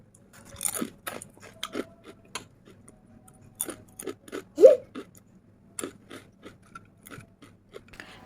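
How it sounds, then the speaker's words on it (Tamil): Crunchy acchu murukku, a fried rice-flour honeycomb cookie, is bitten and chewed up close, giving a series of sharp, irregular crunches spread over several seconds with quiet gaps between them. "இப்போது இந்த அச்சு முறுக்கு வந்து நான் டேஸ்ட் பண்ணி பார்க்குறேன்"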